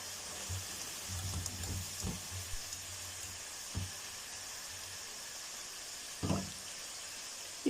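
Okra frying in hot oil in a kadhai: a soft, steady sizzle and hiss running throughout, with a few low knocks and clatters of utensils against the pan.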